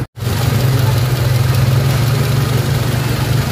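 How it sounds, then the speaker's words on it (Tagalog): A Toyota RAV4 engine, just repaired after cranking without starting because of a faulty wire, catches almost instantly and runs at a steady, loud idle with a constant low rumble up close. "nakita nyo, umandar agad yung engine sa pamamagitan ng pagdugtong natin ng panibagong wire"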